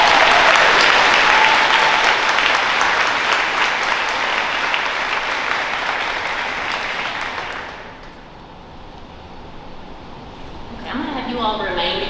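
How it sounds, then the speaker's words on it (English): An audience at a school faculty awards ceremony applauds honor students, loud sustained clapping that gradually thins out and fades, followed by a voice starting to speak near the end. "I want to give them a huge round of applause for their commitment."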